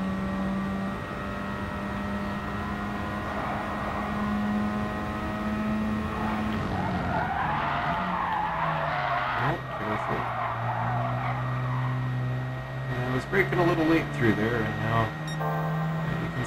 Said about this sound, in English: drifting, drifting, drifting right through that whole thing